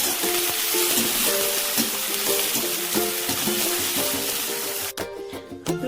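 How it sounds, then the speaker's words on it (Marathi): Garlic, onion, chili and peanuts frying in a pan give off a steady, fairly loud sizzle with occasional stirring clinks, then cut off near the end to a quieter tail. "तर मी ना लसूण, कांदा, मिरची सर्व काही आहे ना शेंगदाणे टाकून आता मस्त फ्राय करून घेतो."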